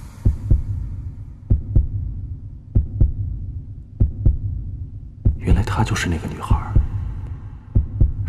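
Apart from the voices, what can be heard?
human heartbeat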